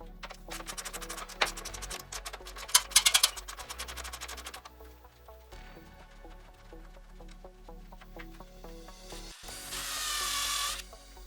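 Tool work on a Mustang bracket, pulling a bolt and trimming the bracket, gives quiet clicks and scraping followed by a brief burst of rapid rattling and then a soft hiss near the end, all fairly faint.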